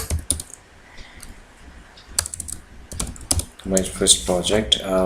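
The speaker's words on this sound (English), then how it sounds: "So if I type cd my first project" Keys clatter on a computer keyboard as a command is typed into a terminal, a quick uneven run of close clicks with bursts of louder keystrokes, while someone talks over the second half.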